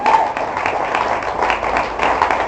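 A church congregation applauds, dense continuous clapping at moderate loudness, with faint voices mixed in.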